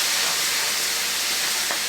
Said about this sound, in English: I am going to add some water, which is going to create a steam effect